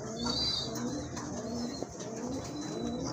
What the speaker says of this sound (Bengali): আর এক জোড়া কবুতর বিউটি হোমা কবুতর